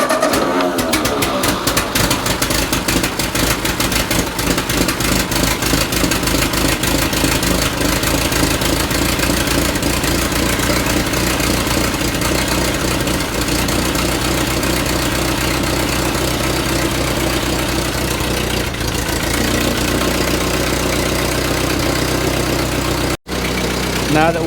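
A 1948 Ford 8N tractor engine runs at idle close by, with a rough, loud, knocking chug throughout, a few louder clunks along the way, and a brief dropout near the end.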